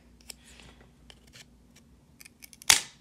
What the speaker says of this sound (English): Then I'm going to snip on the other side,